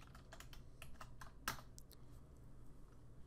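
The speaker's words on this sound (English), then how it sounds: "So I'll run it. And I'll type in my password." Someone types a password on a computer keyboard, a faint run of quick, irregular key taps with one sharper click partway through, heard close and alone in a quiet room.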